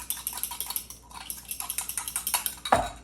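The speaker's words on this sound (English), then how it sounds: "put these eggs here and mix it up" Quick, rhythmic clinking of a spoon whisking eggs in a bowl, about a dozen light metallic taps at a steady pace, close and clear, ending with a heavier knock against the bowl.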